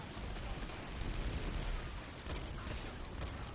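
Faint, continuous battlefield gunfire in Planetside 2 on PS5, a dense crackle of shots and rumbling blasts running throughout at low level.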